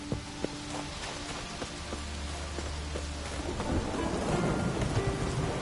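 Downpour in The Witcher 3, a steady rain hiss that swells louder toward the end, with low rumbling thunder and scattered drips beneath soft tonal background music.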